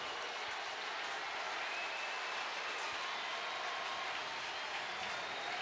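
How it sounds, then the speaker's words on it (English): Steady applause and crowd noise fill a baseball stadium during a tense bases-loaded at-bat, a broad, even wash of clapping and murmur with no clear peaks, held at moderate level throughout. "Crowd gets a little less volume here."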